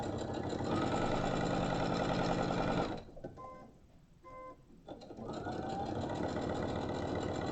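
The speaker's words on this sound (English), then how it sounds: "I'm just following the edge of the foot bit there. I'm putting in a small hem" A sewing machine stitches a small hem on a popcorn bag, running at a loud steady hum that pauses for about two seconds in the middle before starting up again.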